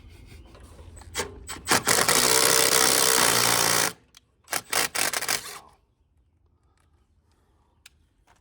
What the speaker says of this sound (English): he's tightening the lock nut down